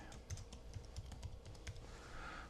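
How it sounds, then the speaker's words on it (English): Keys clack on a computer keyboard in a quick uneven run of taps, light and close with short pauses between strokes, and no talking. "I'm just typing it in here just so everybody gets the gist of it."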